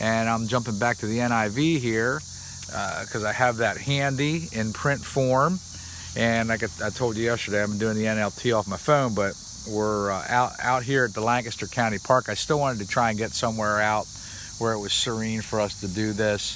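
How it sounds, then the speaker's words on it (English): Cicadas buzz in a county park as a steady high-pitched drone throughout, faint and distant under someone talking continuously close to the microphone. "You can hear the cicadas in the background"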